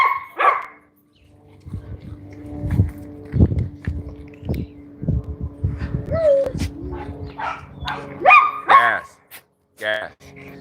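Dogs bark and yip in sharp bursts close by, with a person talking over and between the barks.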